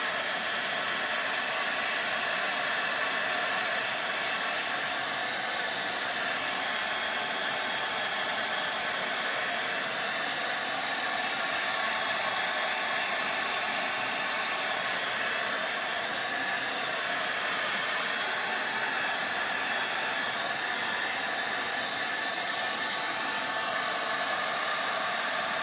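A heat tool blowing hot air to dry sealant on a Halloween decoupage project, a loud, steady rushing hiss held for the whole stretch with no talking.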